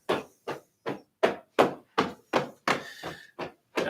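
Hands slap rhythmically up the inside of the legs during a qigong flow routine, about eleven sharp, even smacks roughly every third of a second, close and clear with no talking.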